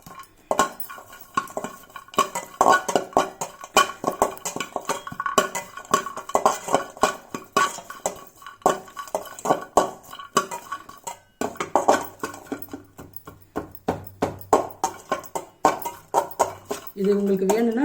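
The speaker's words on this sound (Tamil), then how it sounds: "இது லைட்டாக எண்ணெய் இல்லாமல் வெறும் கடாயிலே இது லைட்டாக இப்படி வறுத்துக்கலாம்." Lentils are dry-roasted without oil in an empty kadai, with a spoon scraping and clinking against the metal pan in quick, repeated strokes, close and moderately loud, while someone speaks over the stirring.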